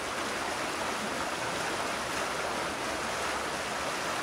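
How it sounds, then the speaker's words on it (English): High water on Oak Creek pouring through a standing wave, a constant rushing roar of turbulent water, steady and fairly close with no other sounds. "Still a hell of a standing wave coming out of there"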